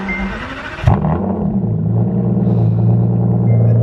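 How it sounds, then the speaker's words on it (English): A car engine cold start: it cranks and fires at about one second, then settles into a loud, steady, deep idle rumble that carries on to the end. "can we do one last cold start?"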